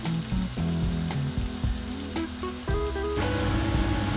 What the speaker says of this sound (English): you'll just give it a bit of a stir to make sure that all the onions are coated with this oil that's in here